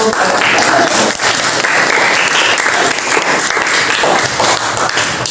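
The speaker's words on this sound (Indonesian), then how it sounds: "Beri tepuk tangan untuk" Students in an Indonesian language classroom burst into loud, close applause, a continuous dense patter of many hands lasting several seconds without speech.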